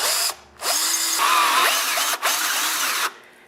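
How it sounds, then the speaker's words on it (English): A power drill with a 5/16 bit bores into aluminum, whining in three close bursts with brief pauses, the pitch sliding as the motor spins up and loads. "Now I'm going to start drilling, and you want to keep your drill as straight as possible."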